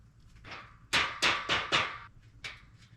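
A quick series of hammer blows knocks metal shelving unit parts into place, four solid knocks in a row with a few lighter taps before and after, close by and without talking.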